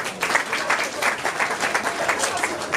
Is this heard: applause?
yes